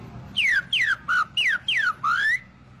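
Someone whistles an imitation of a green-winged saltator's song, six clear descending slurred notes in a quick even series, close and alone.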